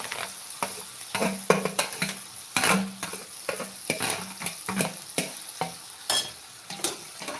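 Brinjals sizzling in a frying pan while being stirred, with a steady hiss of hot oil broken by repeated scraping and clinking of a spoon against the pan, close and fairly quiet.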